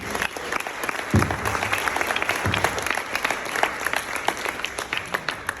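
Guests at a water-safety charity gala applaud the sponsor Edge Pools, a steady crowd of hands clapping, moderately loud and sustained with sharper individual claps standing out.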